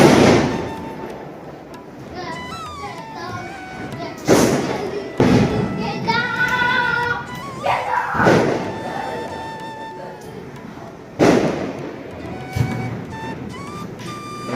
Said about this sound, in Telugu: బయట దీపాలు పెట్టే టైంకి ఆల్మోస్ట్ అలా అందరూ కూడా క్రాకర్స్ కాల్చేస్తున్నారు